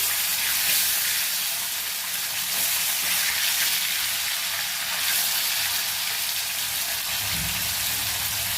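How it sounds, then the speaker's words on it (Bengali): Pieces of katla fish fry in hot oil, giving a loud, continuous sizzle and hiss with no voices. "মাছের এক পিসটা ভাজা হয়ে গেছে, আমি কালকে ছড়িয়ে দিলাম।"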